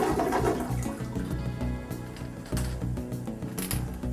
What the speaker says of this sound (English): You can do another test flush.